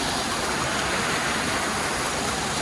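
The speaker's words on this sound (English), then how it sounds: "So this is where the water is coming from, right out of the rocks." Water flowing out of rocks on a hillside produces a steady, close rushing and splashing wash that carries on without a break and with no voices.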